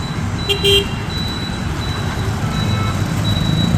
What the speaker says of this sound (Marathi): हळूहळू सोलापूर झोपेतून जागं होत आहे आणि वाहनांची गर्दी वाढत आहे